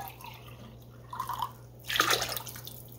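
Water poured from measuring cups into a soup pot holding rice for Italian tomato and rice soup, heard as two short splashing, gurgling pours close by over a faint steady hum.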